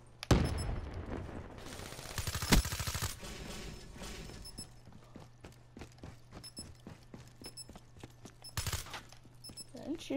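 Bursts of regular gunfire in the game Black Ops 3, sharp repeated shots in the opening seconds with scattered later reports over a steady hum, a voice talking over it.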